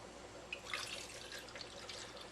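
Frozen-concentrate juice poured from a container into a glass held over a kitchen sink, a soft continuous trickling and splashing liquid sound close by, with faint drips and no talking.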